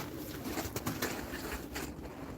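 Pigeons coo softly in a steady murmur, with a few brief rustles or flutters breaking through the close, noisy background.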